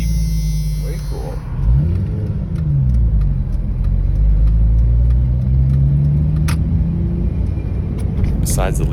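Jeep XJ Cherokee with a leaking, rattling exhaust accelerating away, a low rumbling engine with shifting revs and a metallic rattle, loud and close at first, with brief sharp knocks near the end.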